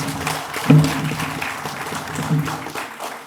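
Audience applause for volunteers at the closing ceremony of a biomedical conference, a dense, even patter of clapping that holds steady, with a couple of louder bumps that could be voices or handling noise.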